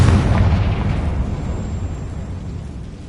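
A loud, close Confringo explosion spell in the video game Hogwarts Legacy, one heavy booming blast that rumbles and fades over a few seconds.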